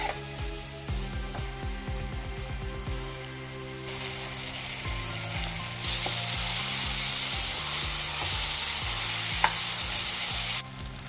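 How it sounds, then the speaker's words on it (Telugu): Paneer and capsicum fry in a pan, giving a steady loud sizzle with stirring clatter and scraping throughout, the hiss growing denser partway through and continuing alone without talk. "చూసారు కదా ఎంత బాగా ఫ్రై అయిందో."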